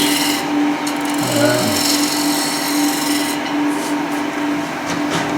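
A gouge cuts wood on a lathe, a continuous close rasping and rubbing with a steady hum from the spinning machine under it, lasting throughout.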